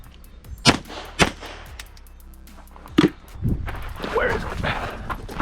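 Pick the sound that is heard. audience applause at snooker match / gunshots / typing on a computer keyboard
gunshots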